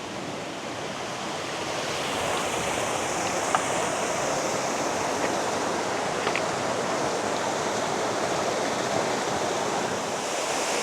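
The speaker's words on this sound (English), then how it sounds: "So we've moved to the upper part of the waterfall now" Upper part of a Yorkshire waterfall on a sunny day, heard as a loud, steady broadband rush of falling water that stays constant throughout with no breaks and no voices.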